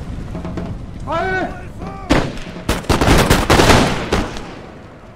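An army fires a gun volley in a Napoleon video game battle against a Persian army. A voice calls out briefly, then loud overlapping gunshots crack and rumble in a ragged burst.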